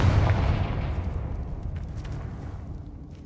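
Confringo spell blast in Hogwarts Legacy: a loud, booming burst that hits at once, then decays into a long rumbling tail with a few crackles, no voices.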